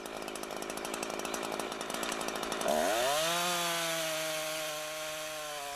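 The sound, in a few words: chainsaw cutting a tree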